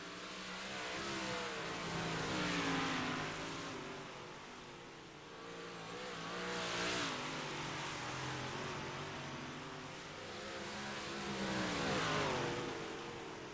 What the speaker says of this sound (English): 9 seems to be just a fine number of race cars on the racetrack.